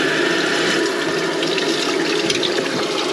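Water runs steadily into an empty toilet cistern after the feed valve is turned on with a screwdriver in a bathroom, a continuous close rushing fill with no talking.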